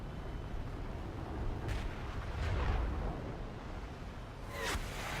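A missile explodes in the War Thunder air-combat video game: a few dull, rumbling booms spread across the clip, with a sharper, brighter burst near the end over steady low background noise.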